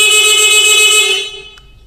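A Honda 70 motorcycle horn sounds in one loud, steady, buzzing blast up close, then cuts off and fades quickly.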